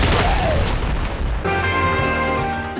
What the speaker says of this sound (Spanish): La explosión del Portal Strike es mayor.